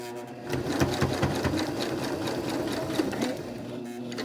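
A sewing machine stitches a fabric face mask, its fast, even mechanical whirr and needle chatter running steadily up close, with no speech.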